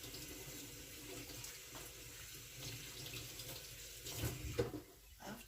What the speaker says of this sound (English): I have to wash my hands now